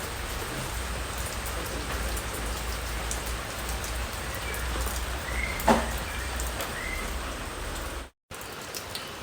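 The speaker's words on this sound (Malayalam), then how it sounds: "ചുറ്റിനും മഴ തന്നെ മഴ" Rain falls all around in a steady, even hiss of drops on surrounding surfaces, with one brief knock midway and a short cut near the end. No voices are heard.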